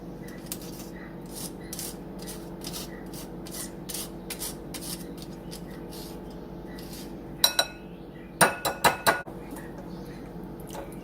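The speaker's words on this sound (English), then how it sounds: "And then you're going to zest a lemon." A lemon is zested on a grater in a kitchen with a rapid series of short rasping scrapes, followed near the end by a few louder clinks and knocks against the grater.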